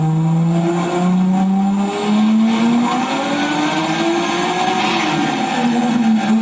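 A car engine on a dynamometer at a tuning shop holds steady high revs throughout, its pitch sliding up and down as it is loaded, loud and continuous with no talk.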